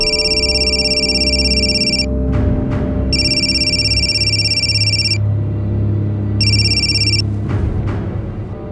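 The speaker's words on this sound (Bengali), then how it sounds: "হ্যাঁ, বিশ্বনাথ দা আমায় ফোন করেছিলেন।" A telephone rings in three long, shrill electronic bursts separated by short gaps, loud and near, over a low rumbling dramatic backing.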